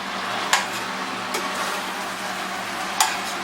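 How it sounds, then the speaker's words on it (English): A spoon stirs green mushroom gravy in a pan, the gravy sizzling softly and steadily, with a few sharp scraping clinks against the pan. "Just give everything a good stir."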